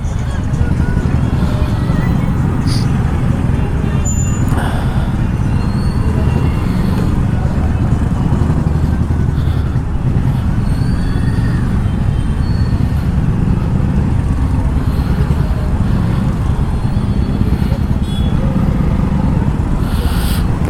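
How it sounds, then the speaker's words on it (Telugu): Dense road traffic heard from a motorbike on a busy city road, a constant loud roar of engines and rumbling vehicles with wind buffeting throughout. "ఏం ట్రాఫిక్ రా నాయన, ఏం ట్రాఫిక్ రా ఇది"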